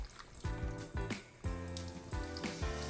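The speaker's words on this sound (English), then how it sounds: "Run a little water over top of them." Tap water running over food for a quick rinse during meal prep, a steady close splashing stream with bursts of clattering as the food shifts, no speech.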